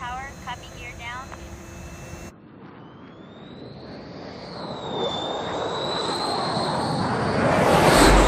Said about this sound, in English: Otter 1 is cleared to land, runway 21 right.